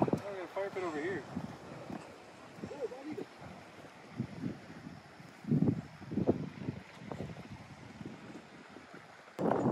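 Wind gusts roar steadily across a lake campsite on a canoe route in Whiteshell Provincial Park, buffeting the microphone in loud surges while people talk over it throughout.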